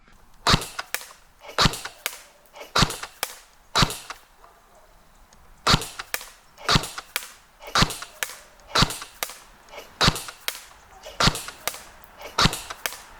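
An airsoft submachine gun fires at a target about 100 feet away, giving sharp, close snapping shots in uneven bursts and singles, with brief pauses between them and no talk.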